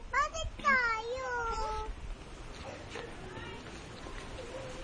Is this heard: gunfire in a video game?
no